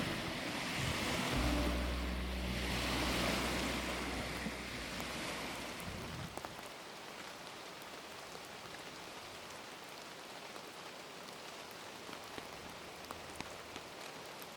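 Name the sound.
small waves breaking on a loch shore, Loch Lomond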